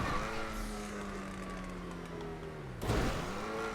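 A sluggish, buzzy engine note from the XA21 car in a video game, rough like a broken-down lawnmower, drones steadily near and loud with slowly gliding pitch, then shifts with a sudden burst near the end.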